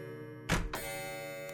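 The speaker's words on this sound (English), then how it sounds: "The clock that was stopped earlier is now chiming non-stop." In a video game, a stone clock starts chiming with a loud clunk, then rings on in steady, sustained bell-like tones.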